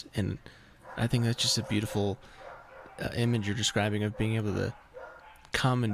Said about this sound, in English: my dogs are going bonkers outside